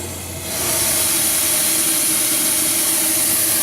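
A loud, steady roaring hiss of steam from a steam engine's boiler blower rushes in after a brief quieter moment and keeps going, close and constant, driving steam through the fire.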